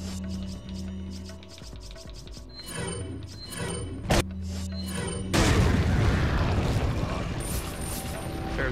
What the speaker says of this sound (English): Let's use a grenade.